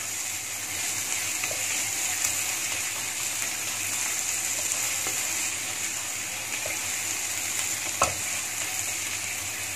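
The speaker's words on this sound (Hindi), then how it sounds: "अच्छे से मिक्स करूँगी इसको" Anda magaj egg mixture with green chilli and coriander being stirred in a pan, a steady scraping and gentle sizzle running throughout at close range, with one sharper clink near the end.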